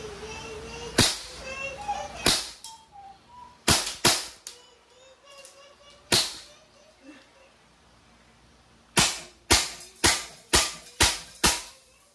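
A Crosman AK1 airgun fires single semi-automatic shots, sharp cracking reports spaced irregularly at first, then a fast run of six shots near the end, loud and close with light outdoor background.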